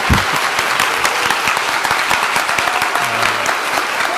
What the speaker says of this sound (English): And one more great round of applause for Dr. Bruce Scott, our own Louisvillian, president of the AMA